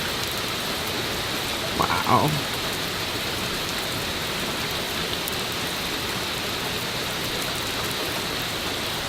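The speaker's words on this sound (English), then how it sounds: "They said torrential rains. They weren't kidding." Torrential rain in a severe thunderstorm roars steadily in a dense, unbroken wash of noise, while a person briefly exclaims early on.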